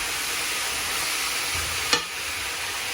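Pork ribs sear in a very hot, large pot with a steady, loud hiss throughout; a sharp burst near the end marks the meat hitting the hot surface, with no talk.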